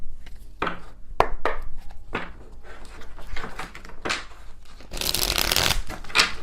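A tarot card deck is shuffled close up in a series of quick riffling bursts and soft slaps, ending in a louder, denser riffle, with no talk.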